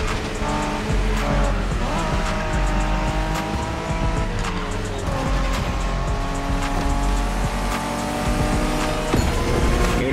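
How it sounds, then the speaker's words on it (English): Japanese street racing cars in The Crew Motorfest roar continuously with high revving engines, shifting pitch as gears change, and tires squealing through corners, loud and sustained throughout. "We're going for some proper Japanese street racing."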